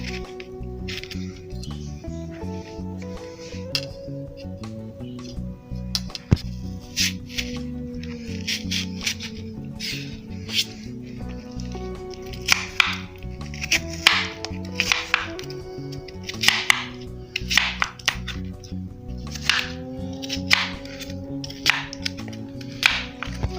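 A knife cuts a cucumber into small slices on a board, producing a long run of sharp, close clicks and taps at an uneven rhythm over a faint musical background.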